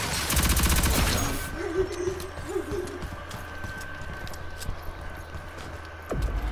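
Sniper rifle fire in an arms race mode shooter game: a loud burst of rapid gunfire in the opening second, then quieter game ambience with faint hooting tones and another sharp report near the end.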